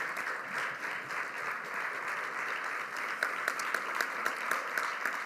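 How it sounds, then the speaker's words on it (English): Audience applause at a school district State of Schools event, a steady wash of many hands clapping throughout, with a few sharper claps standing out near the end. "Let's give him another round of applause."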